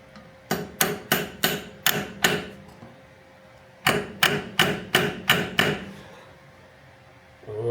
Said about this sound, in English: Then, with your little tappy tap tap machine